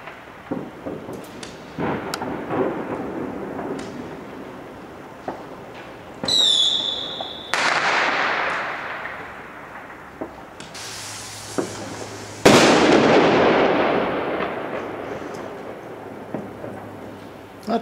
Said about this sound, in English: it sounds like a war zone with all the fireworks going off all over the place.